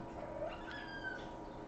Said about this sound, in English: Did you hear that? That was my cat.